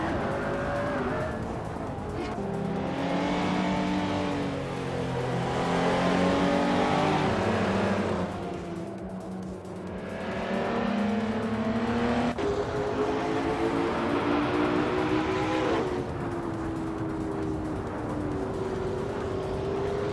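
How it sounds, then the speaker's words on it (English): Engine roar of race cars in a racing video game, including a vintage 1980 Volkswagen Golf GTI, droning steadily with rising and falling revs and tire noise throughout, loud and continuous. "Darth Blazer is racing a vintage 1980 Volkswagen Golf GTI."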